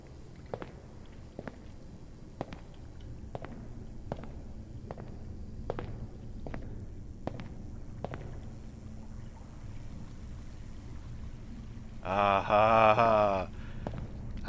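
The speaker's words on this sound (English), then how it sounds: "you got the soggy footsteps" Soggy footsteps splashing through shallow water in an eerie, dimly lit pool area, a slow steady rhythm of soft wet steps over a low ambient hum, followed by a brief louder sloshing burst near the end.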